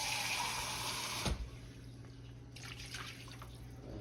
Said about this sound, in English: we're gonna put a little bit more water in here